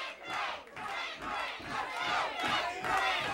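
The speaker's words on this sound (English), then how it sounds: "And you hear the chant of all the young ladies." At a World Championship Wrestling event, a crowd of young women chants in loud, rhythmic bursts that rise and fall in repeated waves, with no other voices over it.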